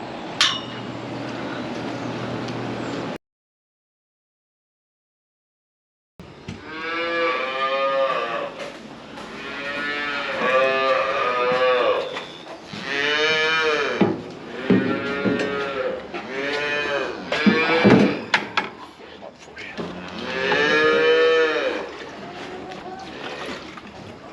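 Cattle on a farm moo repeatedly, long harmonic calls rising and falling one after another at close range, loud and clear after a brief silence near the start.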